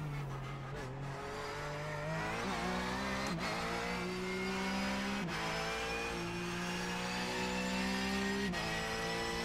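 A Porsche Cup race car engine at Sebring in iRacing drones loudly and continuously, its pitch sweeping up through gears with brief shift breaks, racing sounds filling the whole stretch.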